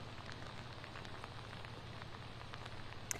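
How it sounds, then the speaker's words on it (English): Rain pours steadily in Huntsville, Texas during severe weather, a faint, continuous hiss of drops with a low rumbling undertone and one brief sharper tap near the end; no one speaks. "It hasn't stopped raining, and more rain is expected to hit into the nightfall."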